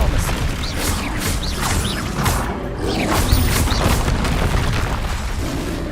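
A spell cast in the video game Hogwarts Legacy, the Expelliarmus disarming charm, lands as a booming magical burst with crashing impacts, loud and sustained over dense game effects throughout.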